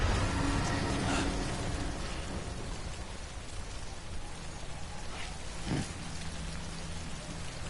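Timefall rain in the video game Death Stranding, a steady wash of rainfall with faint rumbles of thunder, even and continuous without talk.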